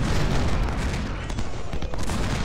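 Rapid musket volley fire in a Civil War video game, a dense continuous crackle of many shots blending into a sustained roar with no pauses.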